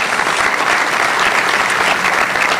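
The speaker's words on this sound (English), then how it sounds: "please give the American Red Cross a round of applause" Steady, loud applause from a large crowd at a town hall meeting in Philadelphia, continuous clapping filling the whole stretch without a break.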